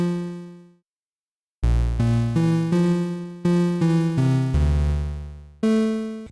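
Bright synthesizer pluck recreating the lead from a song, shaped with a long release around 800 milliseconds: a lone note, a short gap, then a quick melodic run of plucks with deep low notes, each decaying smoothly.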